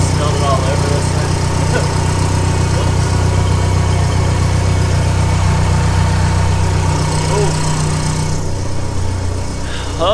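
A car engine idles steadily and loudly after an oil cooler install, a constant low rumble with an even rhythm that runs throughout, with brief speech near the end.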